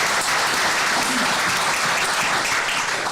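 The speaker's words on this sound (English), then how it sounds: "you're allowed to applaud that if you would like" Dense, loud applause from a large audience fills a hall at the Highlands and Islands green energy conference, sustained without a break.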